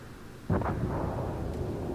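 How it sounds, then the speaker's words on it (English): Torpedo explosions tearing apart a cruiser in the naval combat game World of Warships, launched from an enemy aircraft carrier: a sudden loud booming blast, then a sustained rumbling roar that carries on to the end. "He had absolutely no chance of avoiding those torpedoes from the enemy aircraft carrier."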